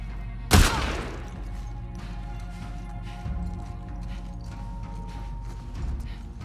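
A single sharp gunshot cracks loudly near the start of a tense moment in The Last of Us Part II, then fades into low rumbling ambience with faint mechanical shuffling and a couple of soft thuds.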